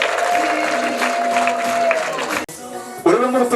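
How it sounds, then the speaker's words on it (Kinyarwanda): Wedding guests clap for the couple Constantin and Fabiola, with a held high vocal tone over the clapping for about two seconds; the sound drops off briefly, then voices rise again. "Namuhaye amashyi impundu ngo ababyeyi mwe mukamwakira."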